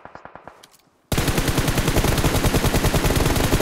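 Rapid automatic gunfire in PUBG on the Sanhok map: faint distant bursts first, then a sudden loud, close sustained volley of rapid shots.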